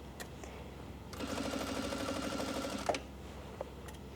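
A sewing machine runs in one steady burst of about two seconds, stitching and backstitching along a wedding dress seam during alterations. It sounds fairly quiet and close, with faint handling clicks before and after.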